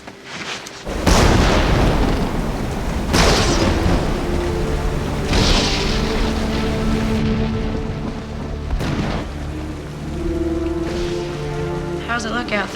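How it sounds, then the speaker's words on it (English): A thunderstorm rages with a constant wash of heavy rain and wind, broken by several loud, deep thunder cracks, with a tonal musical score running beneath. "It's a terrible storm."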